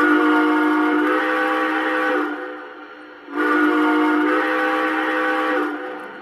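Two long blasts of a deeper-toned model train steam whistle, each a sustained chord lasting a couple of seconds, separated by a short pause, loud and close with no talking.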